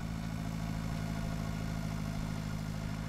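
A tractor engine in the farming simulator Pure Farming 2018 runs at a steady, continuous low hum with no change in pace, heard alone with no talk over it.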